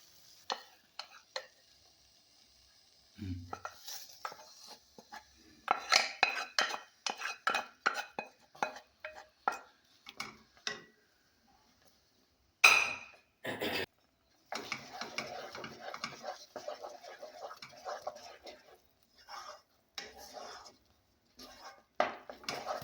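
Semolina and cooked carrot get stirred in a pan for carrot kesari, the spoon scraping and clinking against the metal in irregular bursts with quiet pauses between, close and clear.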